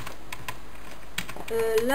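Computer keyboard arrow keys tapped in quick, irregular clicks, light and close, followed at the end by a voice starting to speak.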